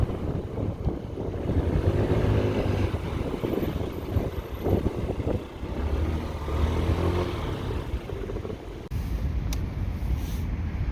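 A Yamaha Gear fuel-injected scooter engine runs steadily with a low rumble at about 50–57, mixed with wind buffeting the microphone as it moves along.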